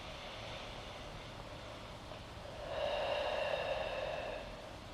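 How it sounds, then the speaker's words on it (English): A slow, deep breath drawn in during a yin yoga stretch, a soft airy rush that swells gradually and holds, faint against steady background hiss with no speech. "Big inhale in."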